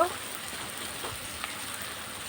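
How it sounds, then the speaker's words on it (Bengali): Ridge gourd lentil dal with raw garlic sizzles softly in the pan as chili powder is stirred in, a faint, steady crackle with light scraping, heard up close. "লঙ্কার গুঁড়োটা দিয়ে আবার একটুখানি নেড়ে নেব"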